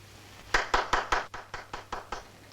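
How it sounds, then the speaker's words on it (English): A small burst of hand clapping for a Western film, about nine sharp, close claps in a quick, slightly uneven rhythm that trails off, with no talk over them. "Thanks for the applause."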